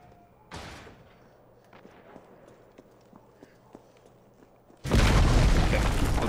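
A grenade in the Resident Evil 3 video game goes off in a sudden, loud, sustained blast that follows a stretch of faint scattered thuds.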